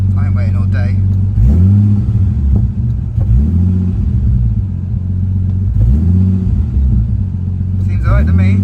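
A Nissan R33 Skyline engine warms up after a fix for idle problems. A loud, close, steady idle rumble is broken by several short throttle blips that rise and settle back.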